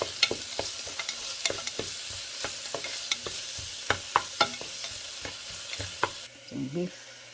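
Beef with corn, long green chilies, onions and cabbage sizzles in a pan, with a spatula scraping and clicking in an irregular stirring rhythm through steady frying hiss; close and moderately loud.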